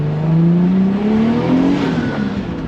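A turbocharged car engine revs up hard and close on a mountain touge road, its pitch climbing steadily as it accelerates and comes into boost.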